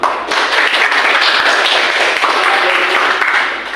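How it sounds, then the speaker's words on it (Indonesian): Classmates in a school classroom clap for a group that has just performed, a steady dense patter of hands lasting throughout, fairly loud and close, tapering slightly at the end. "Tepuk tangan buat."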